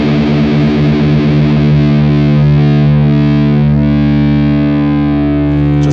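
Open guitar strings ring out together, sustained and loud, as standard tuning is adjusted to drop D by ear; a thick, distorted electric tone holds steadily throughout with no talking.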